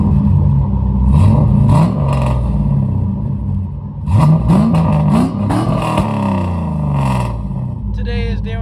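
LS-swapped Mazda RX8 engine revving repeatedly in loud bursts while stationary before a test drive, with voices talking over the blips throughout.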